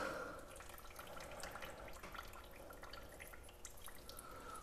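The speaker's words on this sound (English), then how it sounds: "I think I see water coming from somewhere that's not supposed to be coming from" Water dripping from a leak on a 1901 Oldsmobile, faint and quiet, with scattered small drips and a trickle running steadily for a few seconds.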